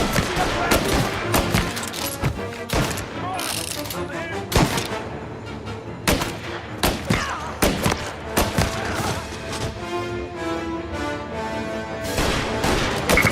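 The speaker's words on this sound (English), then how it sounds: "Reports of gunshots rolling in." Rapid, irregular bursts of gunfire crack over a busy backdrop of music and effects in the video game Mafia: Definitive Edition, with some shots clustered in quick volleys.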